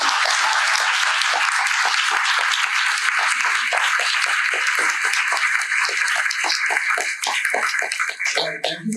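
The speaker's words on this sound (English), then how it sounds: "if I could have another round of applause for us" Audience at an art panel talk on women artists breaking into sustained, dense applause that holds steady before thinning out near the end.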